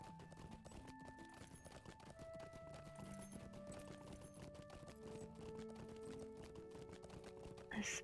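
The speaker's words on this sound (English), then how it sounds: "this isn't the standard festival horse race quest" Horse hooves clip-clop in a quick, steady rhythm during a horse race quest in a video game, running under background music.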